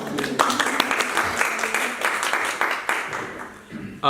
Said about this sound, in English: Yeah, a round of applause.